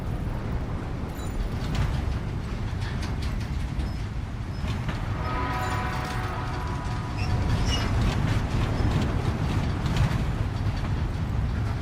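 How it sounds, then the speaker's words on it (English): In the video game Death Stranding 2, a monorail train rides along with a continuous low rumble and rattling rolling noise, steady and fairly loud throughout, with faint squealing tones rising briefly in the middle. "we take the monorail back"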